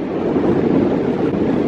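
Steady wind rushes and buffets the microphone while someone cycles through the Hoge Veluwe, a continuous, fairly loud roar with no voices.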